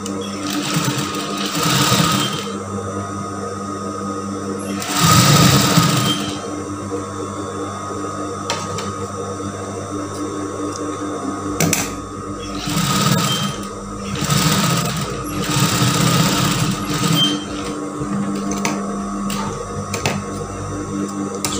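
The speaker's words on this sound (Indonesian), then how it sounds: "kita tindas di bagian yang furingnya" A sewing machine topstitches the lining of a brocade tunic, a steady close motor hum with stitching that runs in several bursts, pausing and restarting, with a faint voice at moments.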